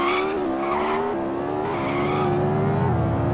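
Tyres screech continuously as a car drifts in donuts in the Extreme Car Driving Simulator video game. The steady engine drone stays loud and close throughout, with no talk over it.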